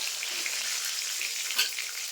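Pieces of pangas fish fry in hot oil, a dense, bright, steady crackling sizzle heard up close, with one brief louder pop of spatter near the middle.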